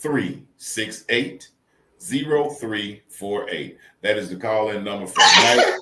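Someone speaks steadily, then a sudden, sharp sneeze bursts out close by at the very end.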